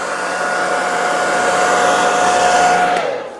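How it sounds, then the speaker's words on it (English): A hair dryer blows with a steady, close whooshing roar and a faint whine, drying airbrush paint, running continuously before cutting off near the end. "You can always whiz over it with a hairdryer."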